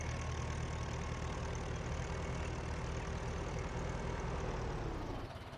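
A tractor engine in Farming Simulator 19 drones steadily at a constant idle-like pitch, loud and continuous, easing slightly at the very end with no voices.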